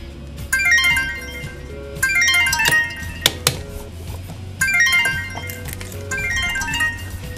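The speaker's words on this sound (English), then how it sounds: "My phone has a habit of ringing at 4:34 in the morning." A mobile phone rings nearby with a bright, repeating melodic ringtone. It plays in bursts of about two seconds, with short pauses and a few clinks in between, over a low background rumble.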